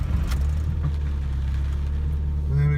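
A Mark 1 Mazda MX5 with a 1.8 turbo engine on an ME221 ECU, cold starting and settling into a low, steady idle rumble close by, with a brief rise near the end.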